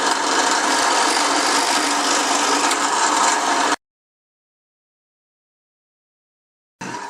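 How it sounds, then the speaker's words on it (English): A 7/32 drill bit bores holes through wood, giving a steady, loud grinding rasp for several seconds. The sound cuts to silence, then the drilling starts again briefly at the end. "Now we've replaced the center drill with a 7/32 drill, and we will now just go ahead and make the holes go on"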